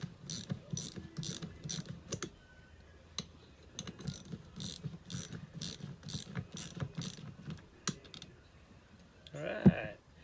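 A hand ratchet clicks in quick repeated bursts while loosening 7/16 bolts from the lower unit housing of a 1984 15 HP Evinrude outboard motor, close and fairly quiet, with short pauses between runs and a louder clatter at the end.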